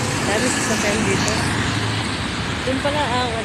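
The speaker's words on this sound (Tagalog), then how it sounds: "Dami sasakyan dito." Busy road traffic with many vehicles near Luneta Park, a continuous loud roar of engines and passing cars, with people talking over it.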